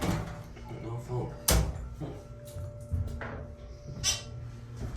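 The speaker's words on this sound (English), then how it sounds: "Well, that door's rough." A rough-running Dover hydraulic elevator door at a Shop n Save store in Wilkins Township, near Monroeville, thuds and rattles through a few sharp knocks and scrapes, with steady background hum and faint voices.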